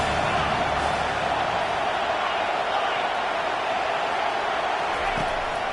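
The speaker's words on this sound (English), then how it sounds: "This crowd bringing the energy and noise early." Loud, steady roar of a large stadium crowd at a Georgia vs Oklahoma football game, a dense wash of cheering and chatter that holds level throughout.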